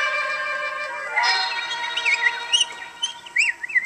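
Several bright, high bird chirps and tweets come in quick bursts over a soft musical background, close and clear.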